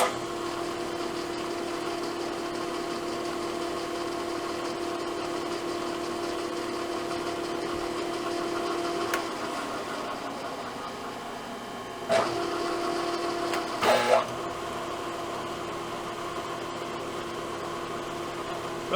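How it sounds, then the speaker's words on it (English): A metal lathe in back gear hums steadily while a tap is started in the workpiece, with a few brief clunks and knocks toward the end over the constant machine drone. "Get her in back gear, and we'll get the tap started."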